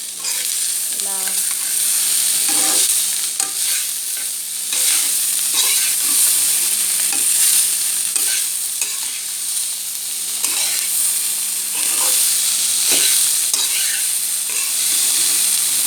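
Ivy gourd curry with grated coconut, turmeric and salt is stirred in a hot pan, giving a loud, continuous sizzle with repeated scraping and mixing strokes throughout, close up and without speech.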